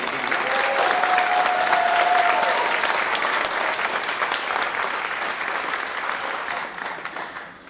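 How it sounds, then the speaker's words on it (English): A school band concert audience gives a round of applause, dense, steady clapping from a large crowd that stays loud before gradually thinning and fading at the end. "Another round of applause for the time."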